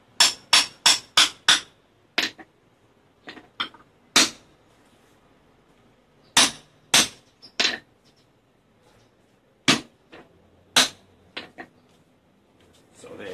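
A hammer head is tapped down onto its handle to seat it, a run of sharp hard strikes in quick bursts with pauses between, close and fairly loud, with a few scattered knocks later.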